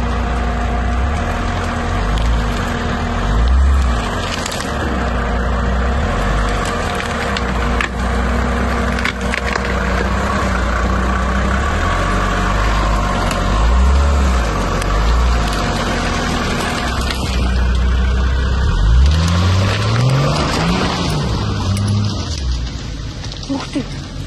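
A jeep on a mountain jeep tour rolls across a bridge made of logs, with the logs creaking and knocking loudly over a steady engine rumble. Voices talk now and then.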